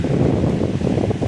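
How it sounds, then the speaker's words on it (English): Steady wind buffets the microphone on a mountain hike near Lily Lake and Lily Mountain, Colorado, in a continuous low rumbling roar, loud and close, with no voices. "It's pretty windy today."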